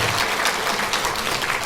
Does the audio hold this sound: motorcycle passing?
no